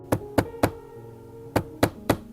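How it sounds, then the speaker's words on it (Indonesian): Six sharp knocks on a door in two groups of three, each rap distinct and fairly close, evenly spaced with a pause between the sets over a faint background hum. "Namun ketukan pintu itu masih terdengar."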